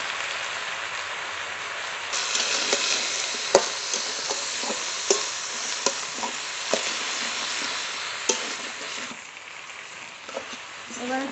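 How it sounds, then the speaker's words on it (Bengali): Leafy greens fry in a pan with salt and turmeric, a steady broadband sizzle broken by sharp scraping clicks of a spatula stirring at irregular intervals, close and fairly loud, with no talking. "এবার একটু নেড়ে শাকটা কমিয়ে নেব।"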